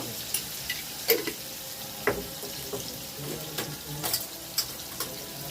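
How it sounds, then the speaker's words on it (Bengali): Potatoes fry in a pan with salt and turmeric. A soft steady sizzle runs throughout, and occasional scrapes of a stirring spoon rise above it, near and fairly quiet. "অল্প হলুদ দিয়েছি, ভালো করে নেড়ে নেব।"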